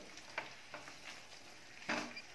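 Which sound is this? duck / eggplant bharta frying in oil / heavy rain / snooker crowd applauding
eggplant bharta frying in oil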